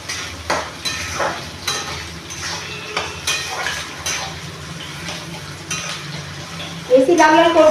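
Chopped onion fries in a pan for chicken kosha while a spoon stirs it, producing soft sizzling with repeated scraping and clinking strokes at an irregular pace and a louder clatter near the end, close by.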